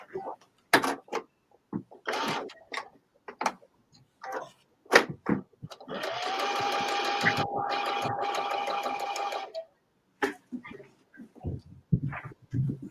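A sewing machine runs in one steady burst of rapid stitching for a few seconds, with people talking before and after it.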